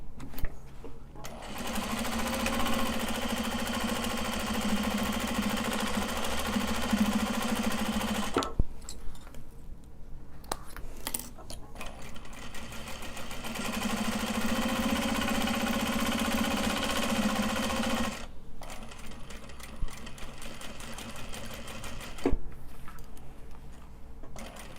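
Sewing machine stitching a mini traveller sling, running in two long steady whirring bursts separated by brief pauses with small handling noises, close and fairly loud.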